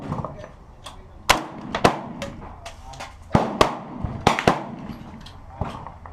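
Century Arms C93 rifle shots at a shooting range, a string of sharp loud cracks at irregular intervals, some clustered in quick pairs, with faint voices and background noise between them.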